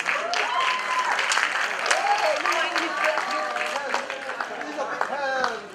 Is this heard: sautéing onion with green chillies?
no